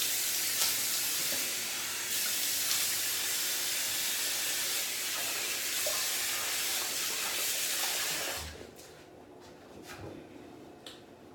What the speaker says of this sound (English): I'm gonna do a quick rinse